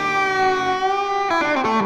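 Heavily distorted electric guitar sustains a single held note, then snaps into a short fast cascade of legato notes in a pentatonic lick, close and loud with no talking.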